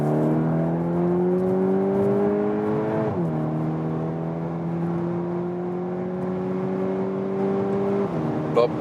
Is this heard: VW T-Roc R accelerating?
yes